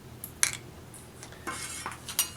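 A spoon stirs cinnamon and granulated sugar in a small bowl, giving several light clinks and scrapes against the bowl, close and soft, without speech.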